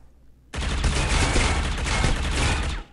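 Sustained automatic gunfire in the mobile shooter Critical Ops, a loud, continuous rapid burst that starts abruptly after a quiet moment and rattles on for over two seconds before cutting off.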